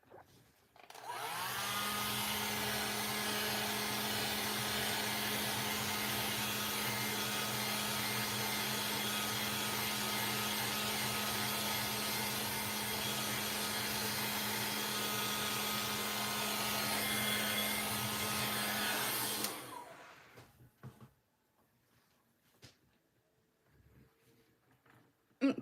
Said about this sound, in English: Just dry it off with a hair dryer.